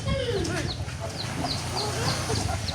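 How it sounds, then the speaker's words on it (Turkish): A chicken at a farm with Indian gamefowl clucks in short repeated calls amid other birds' high chirps and background voices, close and moderately loud. "Tavuk burada."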